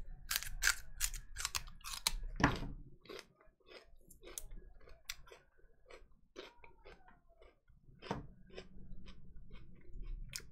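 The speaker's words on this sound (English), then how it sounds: "you keeping it real, eating celery" Raw celery is crunched in a close, quiet room, with a steady run of crisp, snappy bites and chews and one heavier crunch early on.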